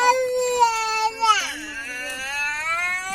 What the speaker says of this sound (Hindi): बच्चे रो रहे हैं